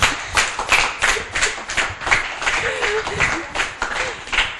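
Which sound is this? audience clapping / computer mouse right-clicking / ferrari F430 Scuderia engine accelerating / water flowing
audience clapping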